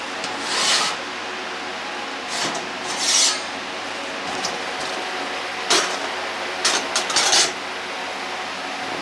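A rag rubs oil over a cast iron pan in several bursts of coarse, rasping friction, each lasting about a second, separated by quieter pauses with a low background hum.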